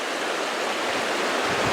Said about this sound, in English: water moving at pace in this direction, dragging trees and stuff along